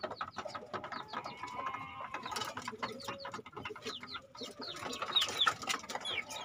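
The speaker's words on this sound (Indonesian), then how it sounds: "Ini ayam dalam masa pembesaran, usia mau 3 bulan" Young chickens about three months old, in their growing stage, cluck and chirp together in a busy, steady flock chatter at moderate distance.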